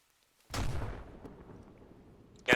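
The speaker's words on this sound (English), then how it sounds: "Artillery, get down. North artillery." Incoming artillery fire in a military video game: after a short silence, a deep booming impact lands with a long rumbling tail, followed by a sharp second crack at the very end.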